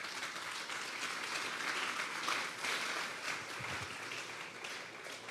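Applause from a church congregation, a steady, fairly soft spread of many hands clapping that rises slightly and continues evenly without talking.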